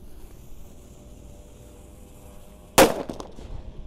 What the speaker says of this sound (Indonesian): ini mercon yang beledosnya banter yang kelima yang kita nyalakan